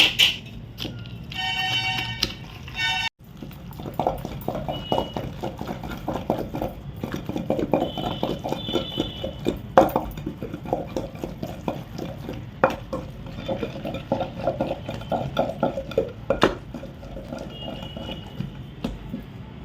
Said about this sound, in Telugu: ఇంకొక 5 మినిట్స్ దంచేస్తాను.